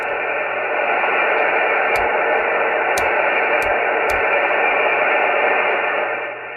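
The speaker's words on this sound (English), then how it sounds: "hopefully you can hear that through the white noise." Steady broadband hiss of white-noise static from a Cobra 148 GTL CB radio restored to original, loud and continuous throughout, with a few faint brief clicks.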